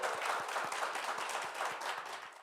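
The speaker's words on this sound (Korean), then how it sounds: "여러분 다시 한번 박수 부탁드리겠습니다" An audience at a televised talk show event promoting Gunpo city breaks into applause, a brisk, dense patter of many clapping hands, moderately near and continuous for a couple of seconds with no talk over it.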